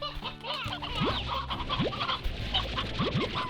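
Chickens cluck in the video game Slime Rancher, several short bursts of clucking and squawks close by over a low ambient hum.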